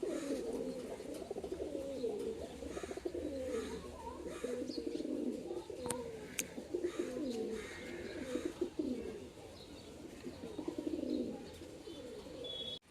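Several pigeons coo in low, throaty, overlapping calls that roll on continuously close by, with a faint sharp click or two partway through.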